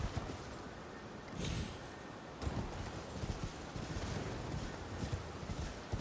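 Horse hooves clopping along in Elden Ring: a faint, rhythmic series of soft thuds over a low ambient wash, with no talking.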